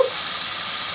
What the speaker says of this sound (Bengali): কিছুক্ষণ 5 মিনিট মতো এগুলো ভেজে তুলবো